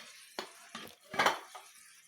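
Biko, a sticky rice cake with coconut latik and sugar, is stirred in a pot, giving a few separate scraping, clattering strokes of spoon against metal with short quiet gaps between them.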